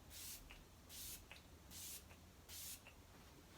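Four short bursts of makeup setting spray hiss out in an even rhythm, each followed by a faint click, in an otherwise quiet room.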